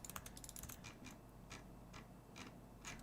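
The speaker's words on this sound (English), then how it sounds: "It just sounds like I'm typing a lot, but it's just mostly useless keystrokes." Computer keyboard keys clatter in quick irregular bursts of taps, close and fairly quiet over a low background hum.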